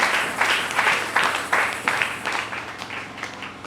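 Church congregation applauding during a Sunday service, a few seconds of rhythmic, moderately loud clapping that gradually thins out.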